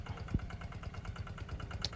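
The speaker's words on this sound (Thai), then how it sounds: "วันนี้จะพามาชม รถไถเดินตามทำรุ่นข้าวโพดนะครับ" A walking tractor fitted with a ridging plow runs in a field of 25-day-old corn, its engine chugging in a steady, rapid rhythm that stays close and even throughout, with no talk.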